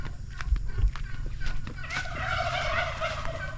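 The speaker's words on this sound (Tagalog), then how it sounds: "nagalimlim na pabo silipin lang natin dyan sa damuhan" A turkey gobbles nearby in rapid, warbling bursts out in a grassy yard, with a couple of soft thumps at the start and faint rustling.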